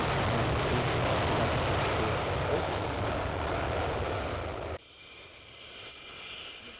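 Loud, broadband roar of a military jet departing an airbase during a live military show, sustained and close for nearly five seconds before cutting abruptly to a quieter, distant rumble.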